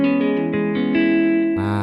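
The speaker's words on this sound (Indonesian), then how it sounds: "Di sini saya gunakan Aloha gitar atau Aloha gitar." A keyboard set to an Aloha Hawaiian guitar voice plays a short sustained melodic phrase, gliding between a few bright, steady notes with a smooth tone and a final shift to a new chord, alone and close.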